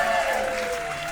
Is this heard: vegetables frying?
no